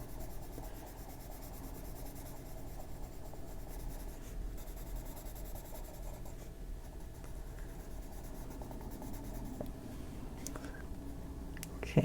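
Steady, continuous scratching of colored pencil on paper, close and even, with a faint brief talking voice underneath.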